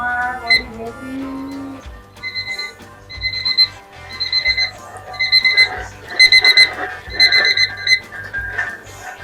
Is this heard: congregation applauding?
no